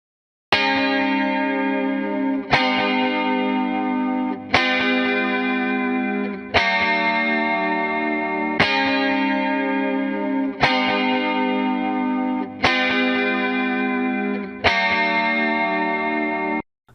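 Reverb-drenched, bell-like notes pass through a compressor with a long attack time, so each strike keeps its sharp onset before the sustained tail is squeezed flat. Eight evenly spaced hits ring out alone, one about every two seconds.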